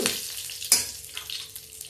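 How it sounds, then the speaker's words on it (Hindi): Cumin seeds spluttering in hot oil on a gas stove, a steady close crackle with a sharp pop near the start and scattered small spits, no talking. "जीरा मेरा तड़क गया"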